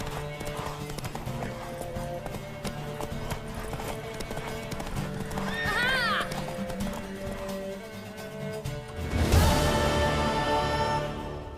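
A horse in The Witcher 3 neighs loudly mid-clip amid steady clip-clop hoofbeats, then a burst of running and galloping closes the sequence over a game soundtrack.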